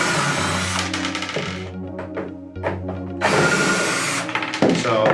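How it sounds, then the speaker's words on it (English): Power drill backing Phillips head screws out of a Polaris 65 pressure side pool cleaner, short buzzing bursts that spin up and stop repeatedly, with clicks and brief quiet gaps between runs. "For this purpose of removing them, I've got a drill. So go ahead and buzz these off real quick."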